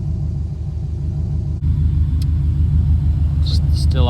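Subaru WRX wagon engine idling steadily at close range, a continuous low rumble with a brief dip partway through, while people talk nearby.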